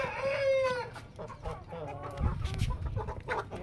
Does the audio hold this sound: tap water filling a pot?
no